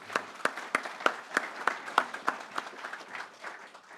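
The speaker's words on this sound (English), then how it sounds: "Can we just ask one more round of applause for Hamish, please?" Scattered audience clapping at a live-streamed deer industry event in New Zealand, a few distinct hand claps repeating at a steady pace over several seconds, fairly sparse and moderately loud with no talk over it.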